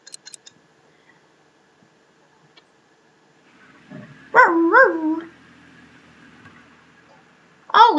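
A pet dog in The Sims 3 gives two short bursts of barking, moderately close, with a quiet gap between them and no talk over it.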